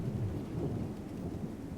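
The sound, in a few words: thunderstorm with rain, from video game Syberia: The World Before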